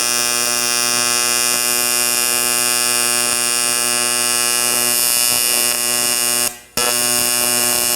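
An Arccaptain AC/DC 200 amp TIG welder's arc gives a steady, loud, close electrical buzz with a rich harmonic hum, cutting out briefly near the end when the tungsten is dipped before resuming.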